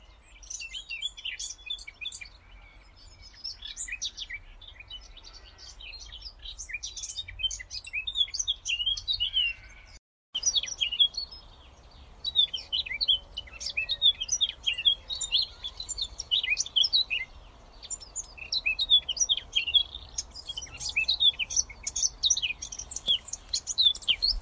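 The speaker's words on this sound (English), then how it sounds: "I'll put a couple of recordings of a blackcap in my garden next." Blackcap warbler singing in a garden, a steady run of bright chirping, warbling phrases over about twenty-four seconds with other birds faintly in the background and a brief gap near the middle.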